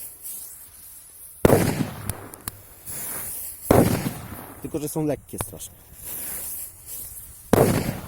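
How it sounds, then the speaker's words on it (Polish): Several sharp Pyro Moravia Megatresk firecracker bangs go off, loud and close, spaced a few seconds apart, with someone talking briefly between the blasts. "petardy małe, ale powiem Wam, że huk mają"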